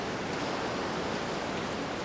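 River water runs over stones below a large waterfall in an African savanna landscape, a constant, fairly loud rushing wash with no pauses, heard close up and alone without any talk.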